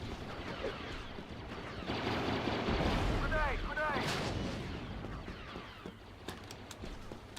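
A grenade explosion in Star Wars Battlefront rolls out as a loud, sustained boom amid scattered gunfire and game effects, with a voice speaking over parts of the action.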